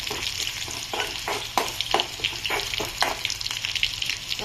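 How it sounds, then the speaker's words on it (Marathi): Garlic and green chili sauté in hot oil for a village-style dahi kadhi, a steady close sizzle broken by repeated scraping stir strokes, with no voices. "लसूणही छान आता परतला गेला आहे"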